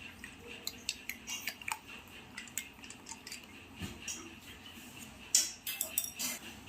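A spoon stirs energy drink mix powder into a drink in a glass, giving a quiet run of irregular metallic clinks and scrapes, close and alone with no talk.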